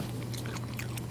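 Someone bites into and chews a small piece of pork liver in thick Cantonese congee with sesame oil, mushroom and cabbage, soft close mouth sounds against a steady background hum.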